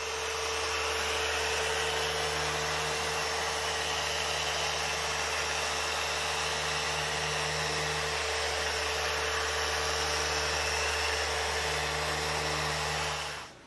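A small pneumatic sander with a backing pad works the body of a 1937 Hudson Terraplane under restoration, giving a steady, close, hissing whir that holds without pause until it cuts off at the end.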